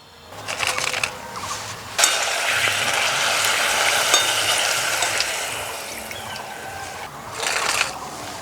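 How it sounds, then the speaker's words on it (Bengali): Papad frying in hot oil gives a bright crackling sizzle that flares in bursts, fading between additions and rising again near the end, close and loud with no voices. "সব থেকে কিন্তু পাঁপড় ভাজতেই কম সময় লাগে, তেলে দিতে দিতে হয়ে যায়।"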